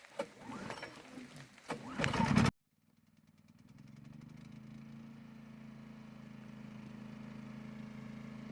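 A portable generator running, a low steady engine hum that cuts in after a few seconds of louder handling noise and brief speech, then settles into an even drone that gradually grows slightly louder.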